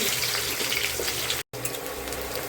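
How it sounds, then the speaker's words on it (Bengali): Sliced onions fry in hot oil in a wok, a dense continuous hiss and sizzle heard close up, briefly cut by a short gap before resuming just as strongly. "পেঁয়াজটা একটু লাল লাল করে ভাজা হয়ে গেছে।"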